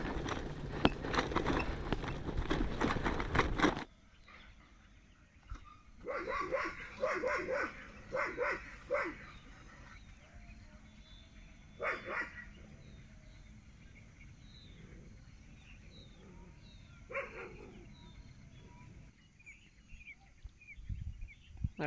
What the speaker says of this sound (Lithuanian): Na jau šuo net pavarga.